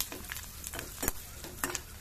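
Chillies coated with ajwain fry and sizzle in hot oil, with soft stirring scrapes and light crackling pulses at close range, no voices.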